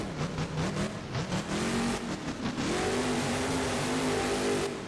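A monster truck engine revving in the BeamNG.drive game, a loud continuous roar with rising and falling pitch, close and unbroken for several seconds.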